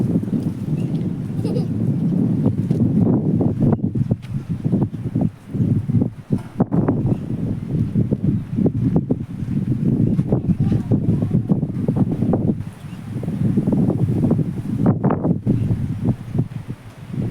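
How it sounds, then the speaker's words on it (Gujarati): Strong wind roars across an open outdoor spot just before rain, buffeting the microphone with a loud, continuous low rumble that surges and dips throughout. "પવન હવે ભૂકા કાઢે."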